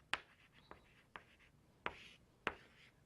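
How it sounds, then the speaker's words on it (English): Chalk or pen strokes write out a math integral, five sharp taps and scratches spaced about half a second apart, faint and close in a quiet room. "now let me just explicitly write down the last thing"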